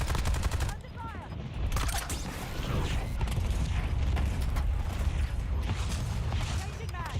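Gunfire in the Warzone video game crackles in dense bursts with mechanical clatter, loud and continuous, mixed under a voice speaking.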